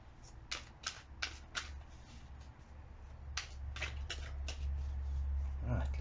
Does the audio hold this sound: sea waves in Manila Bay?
no